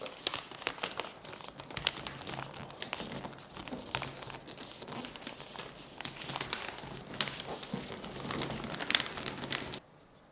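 Wrapping paper rustles and crinkles continuously while being folded into pleats around a book, with soft crackles and occasional sharper creases, close up and fairly quiet, ending abruptly.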